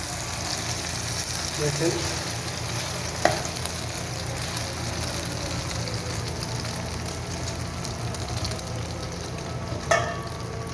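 Eggs frying in a small amount of oil in a pan, a steady close sizzle running throughout with a couple of brief clinks, while a voice speaks briefly over it.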